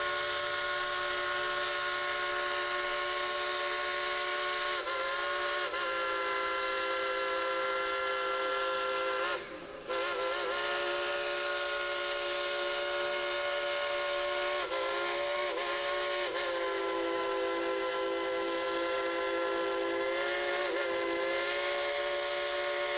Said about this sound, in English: Let's yell at Engineer Casey to blow his whistle real loud and long.